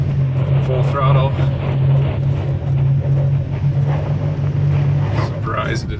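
A midsize pickup truck's engine roars at full throttle while grinding up a steep, rough off-road climb, a loud sustained drone with wavering pitch, as people talk over it inside the cab.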